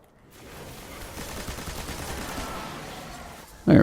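Heavy weapon fire in the shooter game Destiny makes a sustained rattling burst of rapid gunfire at a steady level, then a sharp loud blast near the end, with no talk.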